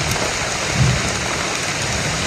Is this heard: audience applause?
no